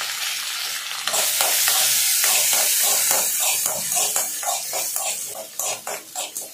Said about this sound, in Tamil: வெங்காயம் பச்சை மிளகாய் கருவேப்பிலை இதெல்லாம் போட்டு ஒரு வதக்கிடலாம்